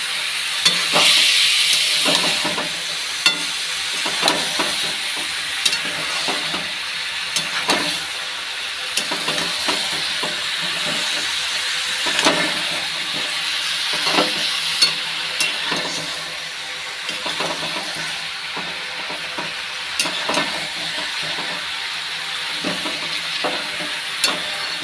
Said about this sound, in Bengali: মশলা একটু ভাজা হয়ে যায়